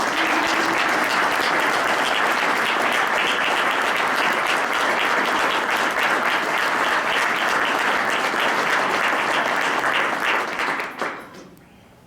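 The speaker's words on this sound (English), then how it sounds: "Please join me in a round of applause to acknowledge the family's deep generosity." Sustained audience applause in a lecture hall at an academic event, a dense steady wash of many hands clapping for about eleven seconds before fading out.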